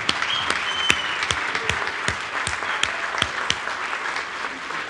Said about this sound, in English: let's give a loud round of applause